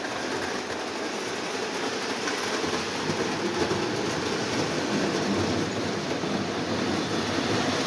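A Lionel New Jersey diesel model train engine pulling Looney Tunes cars runs along the track with a continuous whirring rumble and faint rhythmic clicking, steady and close, without talk.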